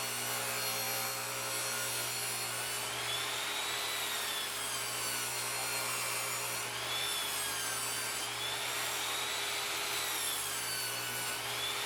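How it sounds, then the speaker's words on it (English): A saw rips a 2x2 board in half lengthwise, producing a loud, continuous, close grinding whine with a steady motor hum beneath and slight changes in pitch as the cut goes on. No one talks. "Take one of those 2x2s and rip it in half."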